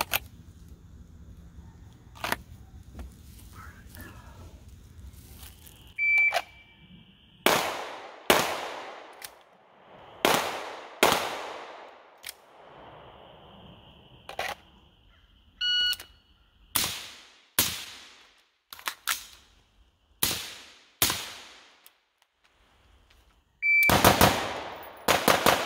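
Repeated gunshots aimed at a shooting target, loud sharp reports spaced a few seconds apart with echoing decay, some in quick pairs, with faint electronic beeps between shots and no talking.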